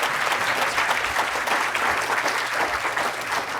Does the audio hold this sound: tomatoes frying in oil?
no